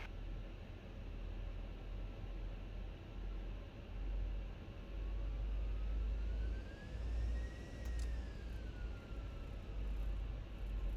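An Airbus A320 in a flight simulator rolls for takeoff from Vancouver, a steady broad engine roar with a smooth whine that rises and then eases, continuous and close, with no voices.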